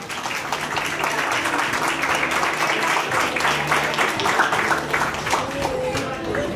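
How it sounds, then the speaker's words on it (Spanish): Applause from a crowd greets a tutor entering a graduation ceremony, a steady wash of clapping that holds for several seconds with an announcer's voice over it. "vamos a recibir las palmas a la tutora Liliana Valdivia, que ella hace su ingreso"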